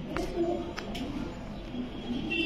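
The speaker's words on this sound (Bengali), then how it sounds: "এগুলো কি পাকিস্তানি ব্রিডের কবুতর?" Pakistani-breed pigeons cooing in a close indoor setting among a pigeon seller's flock, low murmuring coos running steadily through the short stretch with a few sharp clicks and faint background noise.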